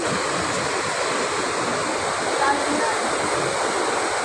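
The river current at Madlum River rushes in a steady, close, broadband wash of flowing water that stays level throughout, with a faint voice barely present beneath it.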